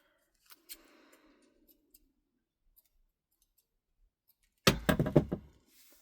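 Scissors snip stitched thread on a handmade leather wallet, a quick close burst of cuts after a few faint clicks and a near-silent pause.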